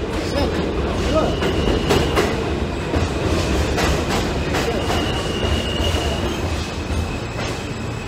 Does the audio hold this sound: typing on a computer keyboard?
no